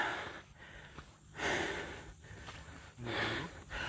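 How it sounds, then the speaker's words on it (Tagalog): Heavy, out-of-breath panting from a hiker on a morning trail, rhythmic bursts of breath rising and falling every second or so, close to the microphone and loud without any talk. "Nakaramdam na ako ng hingal"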